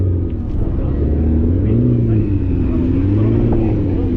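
A turbocharged car engine at a Cars and Coffee meet gives a loud, steady, close rumble whose pitch swells and dips as it revs, with faint crowd noise behind.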